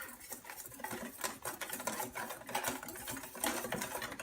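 Milk flecked with vanilla bean seeds being stirred for a gluten-free Basque cake, a steady busy scraping and swishing that runs on without a break and stays close and fairly loud.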